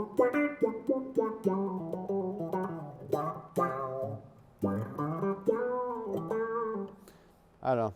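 Guitar through a Source Audio C4 envelope filter pedal, a series of plucked notes and phrases with vocal-like, wah-style sweeps and clear gaps between bursts, moderately loud and alone.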